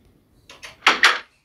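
A Minecraft door sounds in a quick double action, two faint clicks followed by two louder, close knocking clunks, heard alone without talk.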